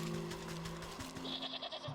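A goat bleats in the video game Wytchwood, a faint wavering cry set against quiet game ambience and soft thumps.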